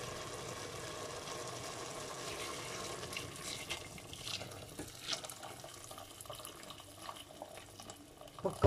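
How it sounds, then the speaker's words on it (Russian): Water pours steadily into a soup pot holding potatoes and a fried vegetable base, a rushing splash throughout with some clinking toward the end. "Я туда отправляю картошку. Заливаю водичкой."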